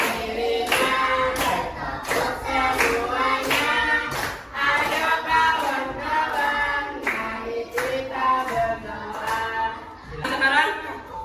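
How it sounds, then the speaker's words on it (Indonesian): Classroom students clap hands in rhythm during a group chant, sharp repeated claps mixed with voices chanting together and a teacher speaking, steady pulse throughout. "Tepuk."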